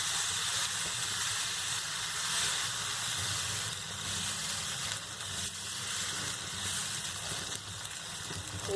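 Moong dal paratha frying in a little oil on a hot pan, a close, continuous hissing sizzle that holds steady with no talking.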